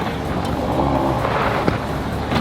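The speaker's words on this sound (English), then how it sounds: "Beautiful 812 Superfast. And the loudest car on the entire rally." A Ferrari 812 Superfast engine rumbles loud and close on a car rally, a steady dense roar with a brief sharp knock partway through.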